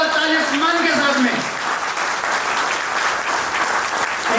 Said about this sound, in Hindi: एक जानदार और शानदार ताली सम्मान के साथ में